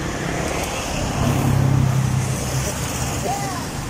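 On a road trip route toward Tagaytay, a car passes close by, its engine and tyre noise swelling briefly and fading away against steady traffic hum.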